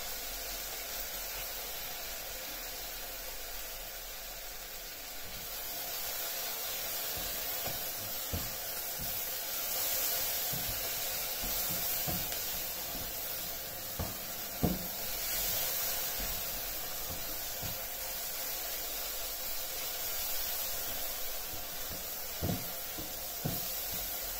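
Peppers and onions for sweet and sticky peppers sizzle in a pan with black pepper sauce, a steady broadband hiss with scattered small pops and crackles throughout, fairly quiet and uninterrupted by talk.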